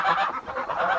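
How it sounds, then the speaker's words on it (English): Farm geese honk loudly and close in a continuous overlapping chorus of nasal calls on a homestead during a break in the rain. "Geese molting a bunch of feathers"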